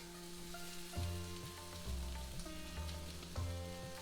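Steady sizzling and crackling of potatoes frying in a pan, with a few low clunks and scrapes now and then, no voices.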